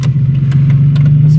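A Nissan 350Z with a swapped engine runs close up with a loud, steady low drone and a slight rough pulse, no revving.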